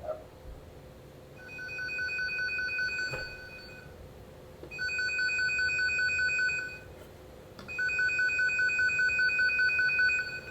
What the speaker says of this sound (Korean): 이런 식으로 위쪽에 파란색 LED가 뜨면서 알람음이 울립니다